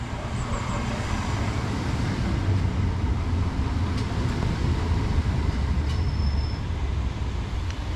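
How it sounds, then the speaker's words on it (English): A Southeastern Class 465 electric train, unit 465925, pulls into a station platform, a steady loud rumble of wheels and traction with faint squeals and clicks over the top, no voices. "arriving in now is the 11:35 Southeastern service from Tonbridge to London Charing Cross, and this is 465925"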